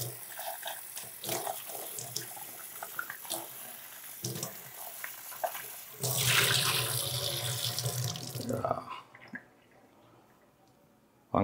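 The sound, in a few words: washing brinjals under running tap water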